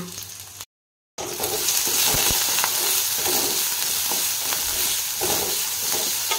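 Chopped onions sizzle and hiss steadily in a hot pan for a potol bharta, a loud continuous frying sound with faint stirring scrapes after a short silent gap at the start.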